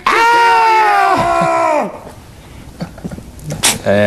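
A long, loud, sustained staged scream from a performer during a rehearsed attack scene on a TV set, trailing off after nearly two seconds, followed by brief shuffling and voices talking nearby.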